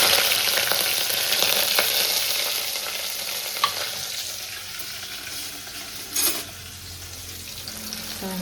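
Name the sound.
onion, chili and salt sizzling in mustard-seed tempering oil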